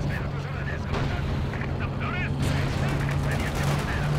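Rapid machine gun fire from the WWII strategy game Company of Heroes 2, in a large 4v4 Wehrmacht battle, rattling steadily over a constant low engine rumble and dense battlefield noise for the whole stretch.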